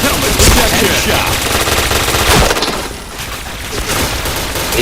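Rapid automatic gunfire in a shooting video game, dense bursts of shots rattling almost without pause, loud and close, with a little faint talk underneath.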